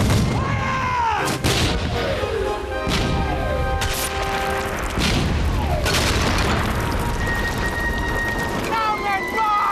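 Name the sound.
musket volley fired by marines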